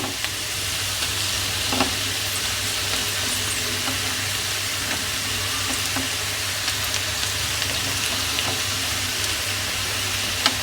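Eggs sizzle steadily in a pan for an egg pepper fry, a dense continuous hiss with occasional small pops and stirring scrapes, close and alone without talk.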